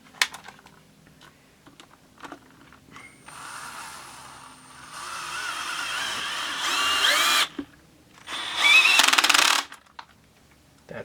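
Torque-sensitive power driver screwing bolts into a plastic part of a Stihl MS660-clone chainsaw: several whirring bursts of a few seconds each, close up, separated by clicks and handling noises.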